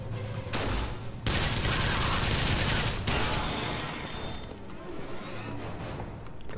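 A gun fires rapid bursts in Bioshock Burial at Sea, loud and close, with dense crackling volleys broken by brief gaps before the shooting trails off.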